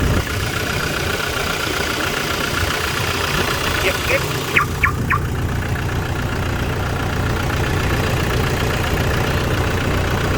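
A Toyota Vigo four-door pickup idling, a steady low engine rumble throughout with a few faint clicks partway, while people talk over it.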